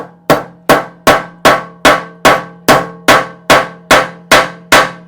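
A hammer's peen strikes the metal tip of a Stihl chainsaw light bar, twelve loud, sharp, ringing blows in an even rhythm about every 0.4 seconds, each decaying quickly, close and with no voices.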